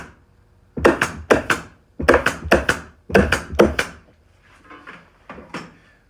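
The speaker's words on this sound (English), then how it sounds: "Nice staple gun." A staple gun fires into a chair in three quick clusters of sharp, close thunks, each two or three shots in a row, then fainter clicks and taps follow.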